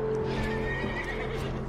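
Horse in Red Dead Redemption 2 whinnies and neighs over a steady game soundscape, with faint clip-clop of hooves, close and fairly loud throughout, no talk.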